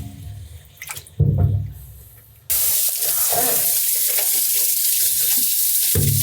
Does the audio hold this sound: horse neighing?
no